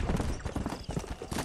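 Horse hooves gallop in rapid, rhythmic clip-clop beats in the video game Red Dead Redemption, close and steady throughout the short burst.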